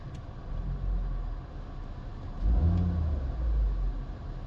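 A car engine idling with a very slight pinking or misfire, a steady low rumble that swells into a heavier surge partway through.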